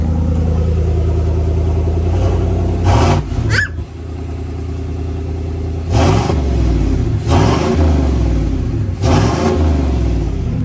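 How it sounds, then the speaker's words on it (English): A loud, rough 2020 Chevrolet Silverado pickup engine with the muffler deleted revs hard several times, unmuffled and close, with deep rumbling roars between the bursts. "So since it's warm, let's get some revs."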